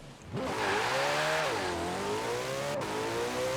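A Ferrari 488 GTB engine in the racing game Forza Horizon 4 revs steadily with rising and falling pitch as it shifts through gears, loud and close, with no talking.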